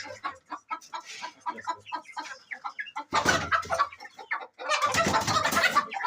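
Caged laying hens cluck and squawk in quick, agitated calls during egg collection, with two loud bursts of wing-flapping and scuffling close by.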